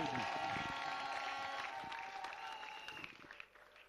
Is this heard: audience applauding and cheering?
yes